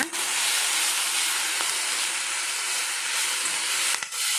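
Finely chopped basale greens fry in hot oil with a loud, steady, close hiss that barely changes, broken only by a brief dip near the end.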